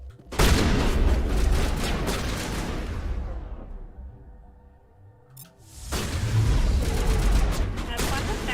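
Shotgun fire in the video game Mass Effect Legendary Edition: loud booming blasts with a dense rumbling tail that fades into a lull, then another burst of heavy gunfire.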